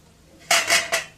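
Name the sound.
stirring chicken fry in a pan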